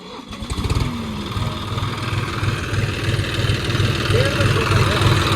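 Tractor driving a PTO rotavator through a field for puddling work, its engine running steadily and loud close by with a low rhythmic throb and mechanical rattle throughout, voices talking over it.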